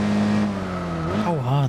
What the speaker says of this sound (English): Braking hard.